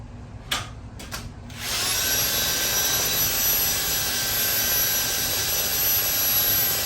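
A garage door spring winding tool turns during a broken garage door rebuild, with a few sharp clicks at first and then a steady, loud whirring drone that holds without pause.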